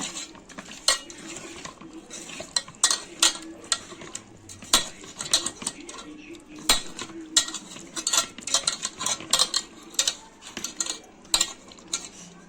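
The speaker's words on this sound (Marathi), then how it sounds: "मीठ कोकमाचं आगळ हे सर्व मिक्स करून घेऊया" Fish pieces are mixed by hand with turmeric, salt and kokum extract in a metal bowl, giving repeated close clinks, taps and wet squelching scrapes in an irregular rhythm with no talk.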